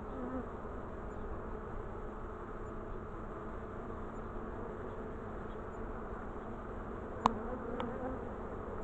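Honey bees buzz steadily at an open Dadant hive, a dense continuous drone close by with a couple of tiny clicks near the end.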